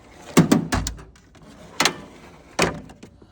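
Drawers of a Craftsman V-Series tool chest slide open and shut in a few sharp bursts, a close clatter at the start followed by two separate metallic rolls and thuds.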